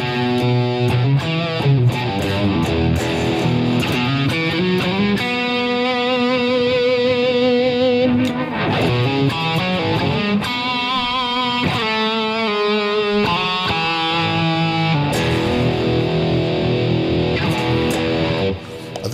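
An '83/'86 Kramer Pacer Imperial electric guitar through its stock Schaller pickup, played with heavy distortion in sustained chords and melodic runs, loud and close with no talking.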